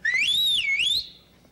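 A single whistle blast from the Pied Piper's musical whistle, clear and close: a shrill, sliding tone that rises, dips and rises again for about a second, then cuts off, with no talking.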